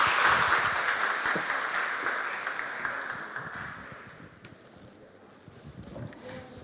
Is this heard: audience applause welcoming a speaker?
yes